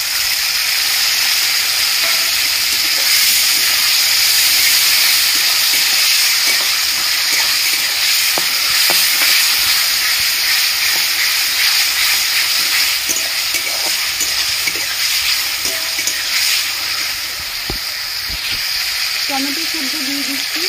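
Seasoned green flat beans sizzle loudly in a hot pan, a dense continuous hiss of frying with intermittent scraping as they are stirred, close and steady throughout.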